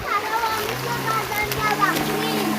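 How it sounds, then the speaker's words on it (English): A child wades through a stream, feet splashing and water gurgling continuously nearby while children and adults talk over it. "Alexa just want to walk in the water."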